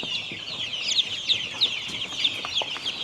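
Rhode Island Red and BPR chicks, about a week old, chirp and peep continuously as a dense, busy flock with repeated high calls throughout, close and moderately loud.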